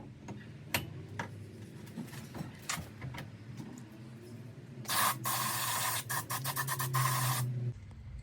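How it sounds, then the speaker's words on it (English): Brake cleaner sprayed into an open engine on a Suzuki LT250R quad project, a loud close hiss lasting a few seconds after scattered light clicks and metallic taps, no talk. "I'm gonna clean inside of this out with some brake clean"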